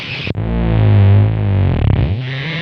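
A Serge wave multiplier modular synth patched through its rectifier puts out a loud, buzzy, heavily distorted tone with a low rumbling body that shifts and warbles near the end.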